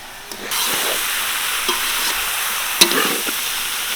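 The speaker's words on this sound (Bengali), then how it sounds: "এখন আমরা কান দিয়ে দিব মশলা কষানোর ভিতরে।" Mutton ears sizzle and fry in a thick spice masala, with a steady loud hiss broken by occasional stirring scrapes and clinks of the spoon in the pan, and no voices.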